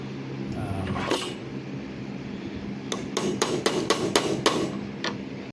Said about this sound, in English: I started chiseling a little chisel, and it's actually chipping away pretty good